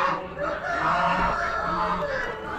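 Cockbirds at a bird auction give a crowing call mixed with clucking, a sustained hoarse cry close by over a crowded, noisy background with faint voices.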